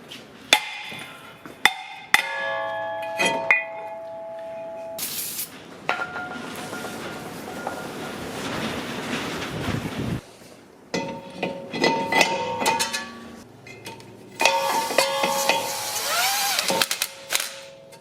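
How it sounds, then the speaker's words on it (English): Heavy metallic hammer blows ring out in sharp bursts, several clanging strikes with pauses between, alongside scraping and rattling of metal parts, as a big hammer strikes brake parts on a 2007-2016 Traverse, Enclave or Outlook. "Big hammer."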